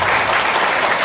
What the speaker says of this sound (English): we will save our applause to the end of this evening.